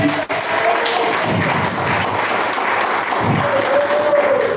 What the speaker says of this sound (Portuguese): As palmas que exaltam Jesus.